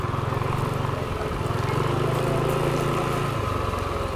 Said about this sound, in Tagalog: Ay, may mga motor din oh.